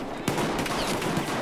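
Gunfire in a shooter video game: a dense burst of rapid shots, loud and close, rattling continuously through the whole moment.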